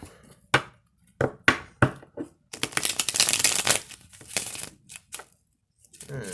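Tarot cards are shuffled in several quick riffling bursts, close and crisp, with short pauses between them and one longer flurry in the middle.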